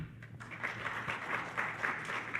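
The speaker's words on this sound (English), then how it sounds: "I love the clapping from the sleeping people" Scattered audience clapping after a talk on the science of cannabis, moderate and uneven with distinct individual claps in a lecture room.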